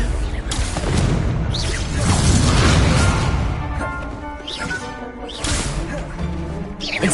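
Confringo blasting spells go off in Hogwarts Legacy as a dense, loud run of booming, crackling bursts and whooshes, with spell names spoken over the action.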